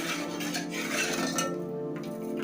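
A spoon stirs tomato soup in a metal pot, giving a soft scraping and faint clinking against the pan over a low, steady background, with no talking.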